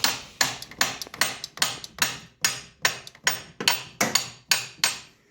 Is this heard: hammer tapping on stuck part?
yes